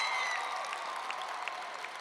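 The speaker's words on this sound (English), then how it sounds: "please give a round of applause to your parents, administrators, because they've helped you this day" An audience applauds at a high school commencement ceremony, a faint, steady wash of clapping heard from a distance.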